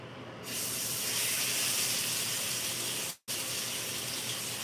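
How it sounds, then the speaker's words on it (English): Pork chops sear in olive oil in a hot pan, a loud steady sizzling hiss that starts abruptly and cuts out for a brief moment before resuming. "Just a little olive oil in the pan because I like to sear it"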